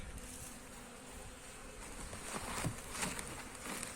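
Honey bees hum steadily in an opened hive during a beekeeper's inspection, a soft continuous buzz with a few closer bees passing, with no talk.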